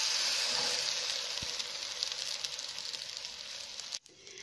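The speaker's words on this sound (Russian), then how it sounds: "и на сковороду с маслом" Steady hiss of egg-dipped rolled lavash flatbread sizzling in hot oil in a pan, loud and continuous, ending abruptly near the close.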